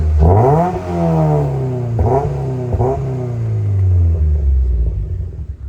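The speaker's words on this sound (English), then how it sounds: "So I'm just going to do a rev of the engine." A tuned Mazda MX-5 engine revs up sharply several times, loud and close, pitch rising and falling with each blip before settling to a deep idle rumble.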